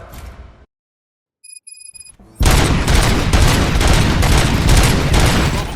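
Gunfire erupts in the video game RoboCop: Rogue City after a brief electronic tone in near silence, turning into a loud, sustained burst of rapid shots with pulsing repeated impacts that continues to the end.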